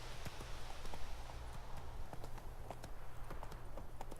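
Hooves of Roach, the horse in The Witcher 3, trotting in a steady, even clip-clop rhythm over a low game soundtrack, fairly close and moderately loud.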